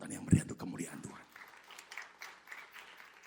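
A church congregation claps for a moment after a preacher's call, a short burst that quickly fades while the voice keeps talking over a quiet room.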